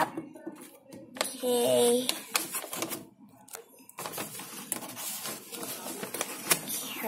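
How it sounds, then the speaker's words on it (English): Handmade gift wrapping being untaped and unwrapped, with crinkly paper rustles and short tearing scrapes in irregular bursts at close range, and a brief spoken word over them. "So let's remove the tape. I think it is handmade wrapping too. Let's unwrap it up."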